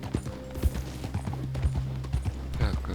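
Horse hooves clip-clopping in the video game Red Dead Redemption 2, a run of close, loud hoofbeats over game ambience with a faint voice briefly underneath.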